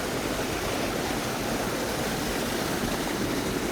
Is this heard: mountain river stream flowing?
yes